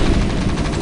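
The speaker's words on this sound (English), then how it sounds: "Just shooting these guys." A StarCraft battle in which units open fire, heard as a dense, loud, unbroken rattle of rapid gunfire in a brief burst.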